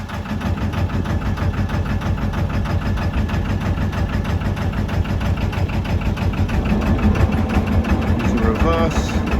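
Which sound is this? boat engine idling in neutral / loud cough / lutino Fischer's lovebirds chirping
boat engine idling in neutral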